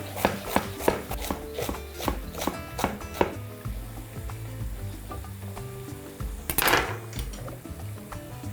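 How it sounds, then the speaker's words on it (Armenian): A single celery stalk being cut into coarse pieces with a knife, a run of sharp, evenly spaced chops over a low background sizzle of onions in a pan, with a louder clatter near the end. "ոչ մանր կտրատած"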